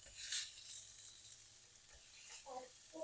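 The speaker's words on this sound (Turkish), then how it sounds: "Köftelerimi burada bir tur kızartacağım." Meatballs sizzle and spit in a hot pan, a soft steady crackle with a brief voice-like murmur near the end.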